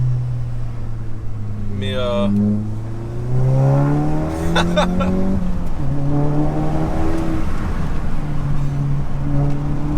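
A Volkswagen Golf 7 GTI Performance accelerates hard on the road. The engine note climbs steadily through several gear changes, loud and close, while someone talks over it.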